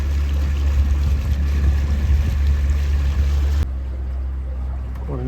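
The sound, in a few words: motorboat engine cruising on the Murray River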